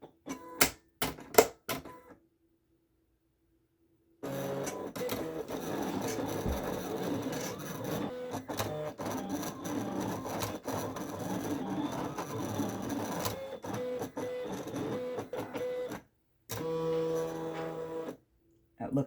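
A Silhouette Portrait 4 cutting machine cuts Oracle 651 vinyl, giving a long steady mechanical whir with fine scratchy texture and brief stops, preceded by a few sharp clicks, close by and with no talk.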